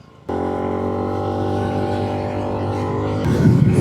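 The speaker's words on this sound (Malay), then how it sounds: "nak try top speed motor ni" A Modenas Elite 150S motorcycle engine holds a steady, droning whine at top speed, close and loud with wind rush. The pitch stays level, then grows rougher and louder near the end.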